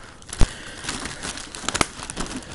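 A plastic game shop bag crinkles as it is handled, with sharp rustling bursts and a few louder crackles, close to the microphone and without talk.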